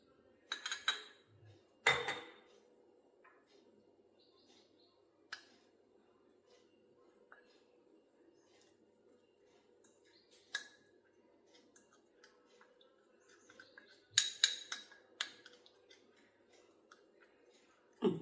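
A spoon stirs a yogurt face pack in a bowl, giving quiet, sporadic scrapes and sharp clinks against the bowl, with long pauses between bursts.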